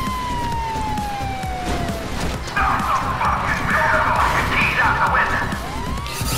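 A police siren wails while chasing a player in Grand Theft Auto Online during a bicycle race on Mount Chiliad, with a rising and falling tone, then a louder warbling burst midway over steady game background noise.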